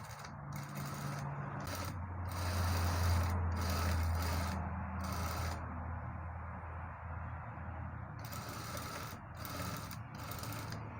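A sewing machine is turned slowly by its hand wheel while stitching a shirt collar, giving a steady close mechanical whirr with soft rhythmic clicking and ratcheting throughout.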